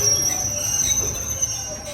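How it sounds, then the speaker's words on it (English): A heritage railway train's wheels squeal steadily as it brakes to a stop, a sustained high-pitched screech held over a low rumble of the moving carriages throughout. "That's what it's doing now. Squeaky stop."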